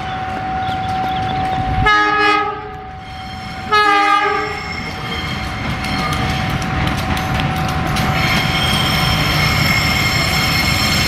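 A train arrives on track 3 at Pasar Senen station in Jakarta, giving two loud horn blasts near the start, followed by continuous rumbling and clattering of wheels on rails close by.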